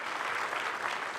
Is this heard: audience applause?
yes